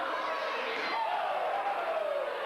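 A wrestling event crowd woo-ing in unison along with exchanged chops, a dense, continuous roar of many voices with a rising, drawn-out collective woo, heard beneath commentary.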